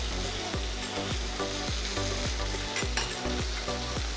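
Chicken fries in a pan for pasta in white sauce, with a steady sizzle. A spoon stirs and scrapes it in a regular rhythm of strokes, close up and moderately loud, with no talking.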